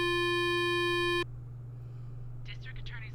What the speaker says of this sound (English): Let's call the district attorney's